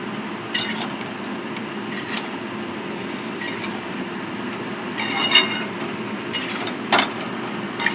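Vegetables stirred in a cooking pot, a utensil scraping and clinking against metal in scattered knocks, close and fairly faint with no talking.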